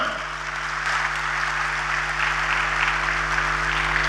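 An audience at a cooperative conference breaks into sustained, dense applause that stays fairly even, with a steady low hum under it.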